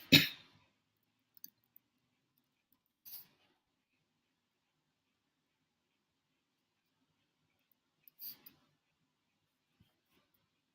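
A computer mouse clicking in a quiet room: a few sharp, isolated clicks spaced several seconds apart, one at the start and others near the middle and end, with silence between them.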